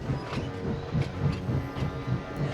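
Steam locomotive from the Trainz railway simulator chuffing as it pulls away with coaches, a steady rhythmic run of low puffs with a rumbling rail bed beneath, moderately loud and close.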